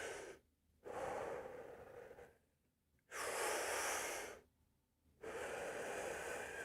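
Slow, deep inhalations drawn in through the nose during a mindful breathing exercise, three long airy breaths each lasting over a second, separated by quiet pauses, close and fairly loud with no talking.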